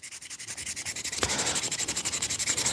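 Wood is sanded by hand in quick, even back-and-forth strokes, a close, rhythmic scratchy rubbing with no talk.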